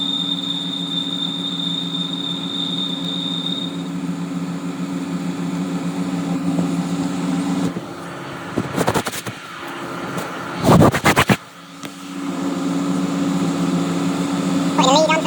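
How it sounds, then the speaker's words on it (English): A CNC lathe tool cutting the hardened skin of an egg-shaped casting bore gives a thin, steady high whine over machine hum, which fades out before loud clunks and bursts of machining noise. "The reason that's making that whine is because the casting bore of this part is quite egg-shaped."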